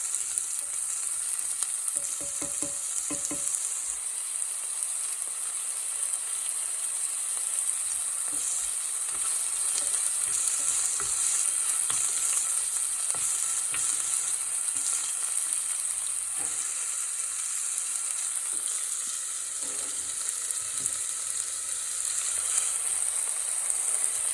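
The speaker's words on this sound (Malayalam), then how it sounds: "ഫയർ കൂട്ടി ഇട്ടിട്ട് നമ്മളിതൊന്ന് മിക്സ് ആക്കണം" A wooden spoon stirs a sizzling rasam mixture over a raised flame, a continuous frying hiss broken by scattered scraping and tapping of the spoon against the pan.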